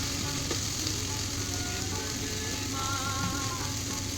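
Turmeric and chili powder fry with tomato in a pan while being stirred for a vegetarian broccoli dish, giving a dense, steady sizzle throughout.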